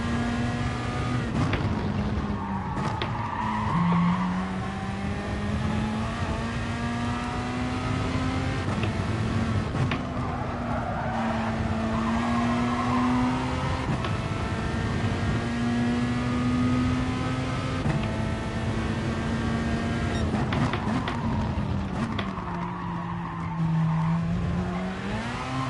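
A race car in a racing video game holds a loud, continuous engine drone that rises and falls with gear changes, while tires squeal and skid through the corners. No voice is heard.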